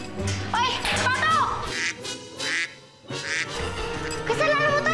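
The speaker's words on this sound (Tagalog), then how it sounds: "Hoy, pato! Bumalik ka nga dito!" A loose duck quacks in several bright, squawky bursts, mixed in with excited children's voices talking over and between the calls.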